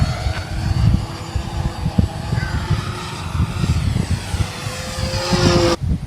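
Radio-controlled 1-metre sport airplane flying outdoors, its continuous buzzing engine drone steady throughout and swelling toward the end, with broadband wind and handling noise underneath.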